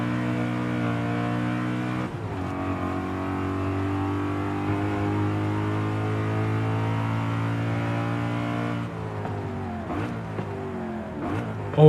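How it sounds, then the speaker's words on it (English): A stock, fairly old Mercedes-AMG V8 in Forza Horizon 5 drones steadily with strong induction noise, then drops through a quick series of downshifts with rising blips near the end, loud and alone without talk. "Oh, those downshifts are so good."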